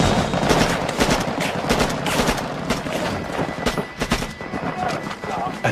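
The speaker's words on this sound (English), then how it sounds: "At the sound of gunfire" Machine gun fire rattles in dense, rapid bursts with heavy booming impacts layered over a rough, continuous background in a wartime firefight scene.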